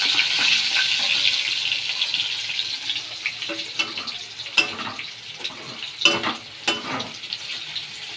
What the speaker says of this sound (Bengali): এই যে এবার এই আলুগুলো দিয়ে দেবো তেলের মধ্যে।